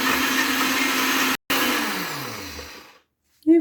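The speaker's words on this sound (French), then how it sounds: "Et je vais venir mixer directement à vitesse 2." A blender runs at speed 2 on homemade fruit juice, a loud, steady whir that cuts out briefly, restarts, then winds down with a falling pitch to silence before a short final noise.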